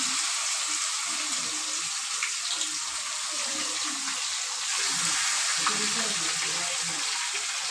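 Hot water poured into a pan of frying bay leaves and dried chillies gives off a loud, steady hiss and sizzle. A quiet voice murmurs faintly underneath.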